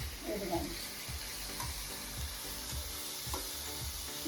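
Chicken frying in a pan with tomato, onion, ginger garlic paste and bay leaf, giving a close, continuous sizzle broken by repeated soft stirring scrapes, with no voices.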